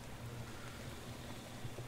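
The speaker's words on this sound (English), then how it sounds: "this is the first time I've ever seen rain." In-game rain in Ark Scorched Earth falls as a soft, steady hiss with faint pattering drops, low in level and unbroken throughout.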